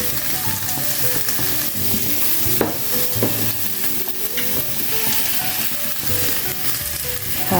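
Chicken fillet with celery and oyster sauce fries in a hot pan with a loud, constant sizzle, punctuated by occasional clinks and scrapes from stirring, up close and with no talking.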